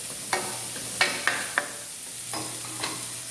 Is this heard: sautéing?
yes